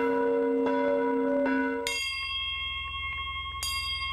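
Bells ring along the Glockenwanderweg, a bell hiking trail in the Erzgebirge, with a few clear, loud strikes whose tones hang and decay, with no talk.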